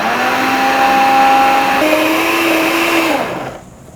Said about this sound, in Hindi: पहले मैं इसको थोड़ा सा ब्लेंड करूँगी, फिर अगेन ब्लेंड करूँगी